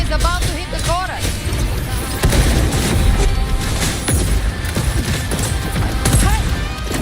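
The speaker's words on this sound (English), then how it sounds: "Another mortar thrown at us." Mortar blasts and combat in Wuthering Waves, punchy booms and crashes layered densely under speech and chirpy effects, repeating through the busy battle.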